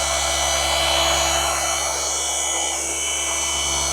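A dual-action polisher with a yellow pad works over aviation aluminum at reduced speed, producing a loud, continuous steady whir and hum close by.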